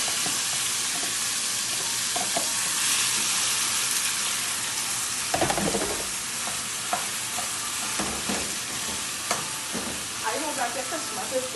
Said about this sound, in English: I'm going to put the mincemeat in the pot now to cook